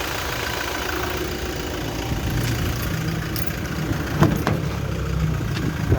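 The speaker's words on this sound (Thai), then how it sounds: "ลองเร่งจะลองเร่งพันห้าร้อยรอบดูนะเวลารถติด" A front-mounted diesel car engine with a weak cooling fan runs in stopped traffic, revved and held at about 1500 rpm. It makes a steady, close mechanical drone with a few faint clicks and knocks.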